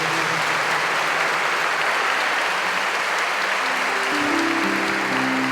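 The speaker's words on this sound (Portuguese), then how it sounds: "Aplaudamos o Santo Evangelho." A congregation at Mass applauds the Gospel reading, dense sustained clapping filling the room at a steady loud level, with a low sung or organ tone entering toward the end.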